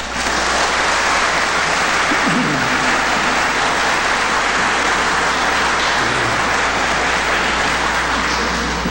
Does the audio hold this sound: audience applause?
yes